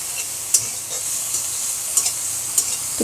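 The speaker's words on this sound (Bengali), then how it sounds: "তো তেলের ভিতরে আমি চিংড়ি মাছটা খুব ভালোভাবে এটা ভেজে নিব।" Shrimp frying in hot oil with a pinch of turmeric, a steady close sizzle with occasional spoon stirs and scrapes against the pan, no talking.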